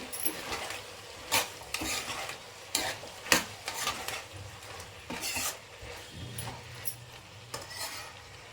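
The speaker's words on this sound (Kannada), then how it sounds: "ಟೊಮೆಟೊ ಕೂಡ ಸೇರಿಸ್ಕೊಳ್ಳೋಣ ಈಗ ಮಿಕ್ಸ್ ಮಾಡ್ಕೊಳ್ಳೋಣ" A spoon scrapes and stirs tomato into a potato and green pea kurma in a pan, making irregular clinking, scraping strokes over a light sizzle, close and clear with no talk.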